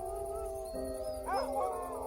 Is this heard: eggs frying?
no